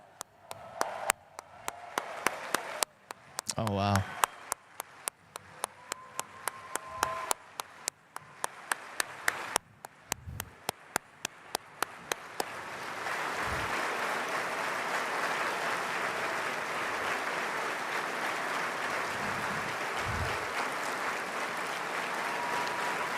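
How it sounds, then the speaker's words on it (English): A large crowd at a political speech gives a sustained round of applause that swells in the second half, preceded by a speaker's voice with scattered claps and brief exclamations. "I'd like us all to give them a big round of applause."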